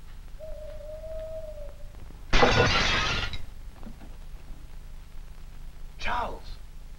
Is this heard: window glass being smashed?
yes